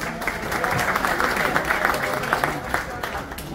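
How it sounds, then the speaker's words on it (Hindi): A dense crowd of applause fills a gathering of DJs, steady and continuous, welcoming a DJ events representative from Modinagar to the stage, with no pauses throughout. "जोरदार ताली स्वागत कर भैया"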